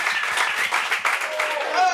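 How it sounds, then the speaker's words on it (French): An audience at an evening comedy and improv show applauds, with brisk, continuous clapping heard close and a voice speaking over the applause. "Je vous demande d'applaudir Flavien s'il vous plaît."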